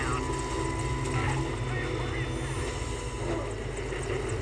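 Helicopter in the video game Prototype, a steady droning rotor and engine hum running continuously at moderate level with faint game sounds over it.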